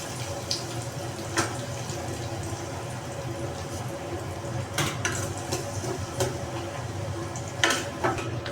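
Chopped onion sizzles in hot frying oil in a pan, a steady soft crackle with a few sharper stirring clatters and scrapes.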